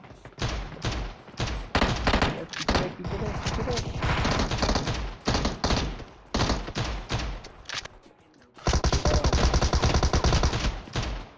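Rapid bursts of gunfire from PUBG Mobile in a sniper fight with prone drop shots, loud and repeated in dense volleys with short gaps, ending in a sustained heavy burst.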